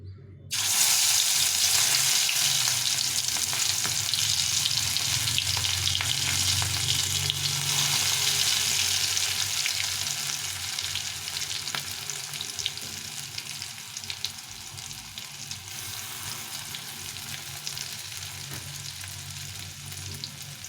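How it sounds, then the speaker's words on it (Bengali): Cabbage and fish-oil pakoras deep-frying in hot oil, a loud, dense, steady sizzle that starts abruptly and continues unbroken, easing slightly in intensity over time. "তেলটা গরম হয়ে গেছে এখন আমি এই পকোড়াগুলো ভেজে নেবো"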